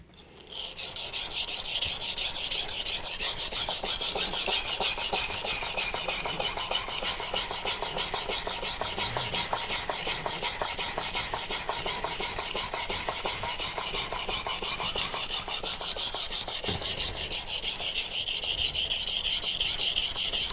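Steady rasping scrape of a knife drawn across a coarse 200-grit CBN whetstone, loud and continuous for about twenty seconds with rapid repeated strokes and no talking.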